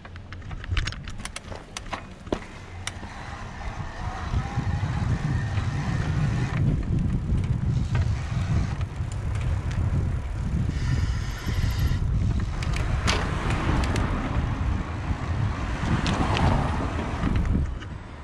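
Gazelle Ultimate T10 HMB e-bike ridden outdoors in Eco assist mode, heard as a soft motor hum and tire noise under heavy rumbling wind buffeting against the microphone throughout.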